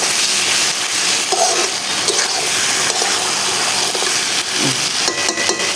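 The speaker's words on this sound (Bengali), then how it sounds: "এখন আমি জল দিয়ে দেবো।" Water is poured into a hot kadai of Bengali egg curry with potatoes, a loud, steady gushing and sizzling wash of sound that lasts throughout.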